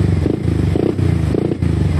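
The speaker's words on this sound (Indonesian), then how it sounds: "Oke, hidup nih motor ya, is alive." A Yamaha R15 motorcycle with a 64 mm cylinder block runs close by, giving a loud, continuous, throbbing idle rumble with slight clatter and no pause.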